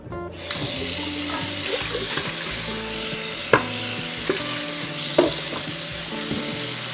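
Water runs and splashes steadily while rice noodles are rinsed and swished in it, with occasional knocks against a container.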